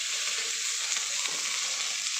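Fish sizzles in a pan of lightly fried onions, a steady, close and fairly even crackle of hot oil with no voices.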